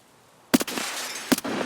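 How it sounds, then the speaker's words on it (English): Two sharp gunshots in the video game Escape from Tarkov, each followed by a short crackle of breaking window glass, close and loud, with no speech. "The reason I'm shooting these windows out is these are pre-planned spots."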